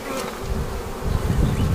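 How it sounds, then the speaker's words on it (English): Honey bees buzz densely during a hive transfer as they are shaken into a new hive, a loud continuous close-up drone that swells slightly in the second half. "I will be shaking bees off into that new hive"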